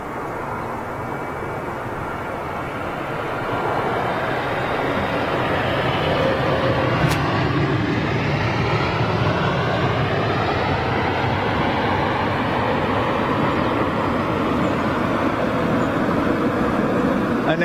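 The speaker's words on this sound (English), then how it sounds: "there's a 747 going out" A Boeing 747 departs Heathrow Airport with a steady, loud jet roar that builds early and then holds broad and constant. Faint talk may sit underneath.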